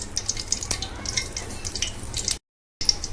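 Mustard seeds crackle and spit in hot oil in a kadai as prawn gravy gets started, a steady run of small sharp pops and sizzle that cuts out briefly near the end before resuming.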